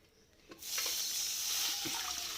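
Cooked lentils go into jackfruit payasam together with their cooking water, a sustained watery pour and splash that begins suddenly and runs steadily, with faint clinks of a utensil beneath it.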